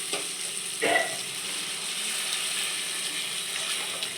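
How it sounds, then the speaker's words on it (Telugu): Water is poured into a hot pan over a high flame while making upma, giving two short splashing hisses early on, then a faint steady sizzle that continues to the end. "ఇప్పుడు హై ఫ్లేమ్ పెట్టి వాటర్ వేస్తున్నాను"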